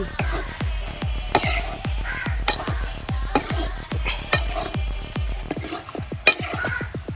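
A spoon stirs pork fry made from pig's trotters in a pan with loud, rhythmic clanks against the metal, repeated every fraction of a second over a continuous sizzle.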